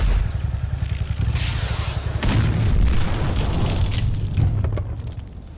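A massive explosion in the video game Devil May Cry rumbles on as a deep, loud, sustained boom with crackling debris and scraping, fading slowly over several seconds.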